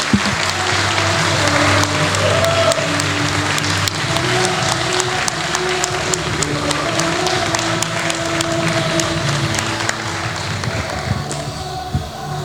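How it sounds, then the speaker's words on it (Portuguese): Congregation applauding at a graduation ceremony in a church academy, steady sustained clapping that fills the room, with a low hum and some voices underneath. "a gente pede uma salva de palmas para todos"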